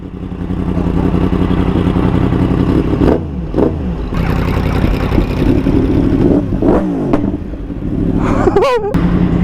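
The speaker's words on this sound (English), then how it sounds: "heard you guys rev the crap out of your motorbike" A Yamaha R1 motorcycle engine at a car meet roars steadily and revs up several times, with a brief rising whine near the end and faint voices underneath.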